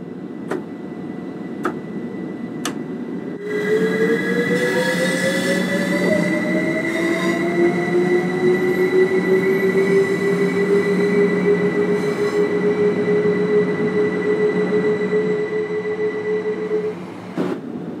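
A Class 377/4 electric multiple unit pulls away in Train Sim World 2 on the East Coastway, a steady rumbling roll with a rising motor whine, faint rail clicks and squeal, loud and continuous throughout.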